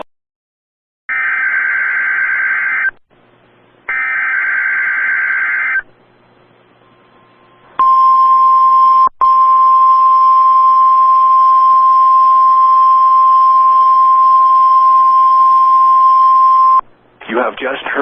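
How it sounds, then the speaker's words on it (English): NOAA National Weather Service radio warning alarm test: two loud steady tone bursts, a pause, then a long continuous piercing alarm tone lasting about nine seconds, with a broadcast voice before it. "You have just heard a test of the National Weather Service radio warning alarm feature."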